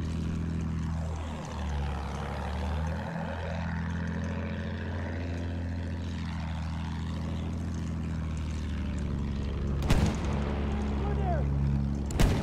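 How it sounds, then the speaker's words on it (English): Propeller airplane passing over a Battlefield 1 battlefield, its droning engine rising and falling in a couple of sweeping fly-bys over a constant rumble of combat noise, with a sharper burst near the end. "they got a plane up"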